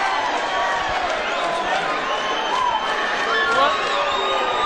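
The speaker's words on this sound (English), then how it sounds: "And the crowd goes wild." A crowd at a boxing fight event cheers and shouts continuously, a dense roar of voices and whoops filling the space at steady loudness.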